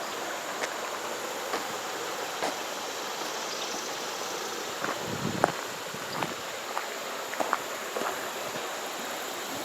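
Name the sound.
creek water flowing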